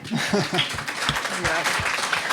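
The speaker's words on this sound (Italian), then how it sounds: "un applauso anche per te" An audience claps at a cultural talk event in Friuli, a broad spread of applause running under and around a speaking voice that sounds intermittently over it.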